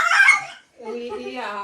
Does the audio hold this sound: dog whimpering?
yes